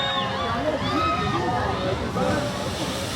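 Water sloshes and splashes steadily on a pirate-themed ride at Parc Astérix, with a crowd murmuring and voices talking over the continuous wash.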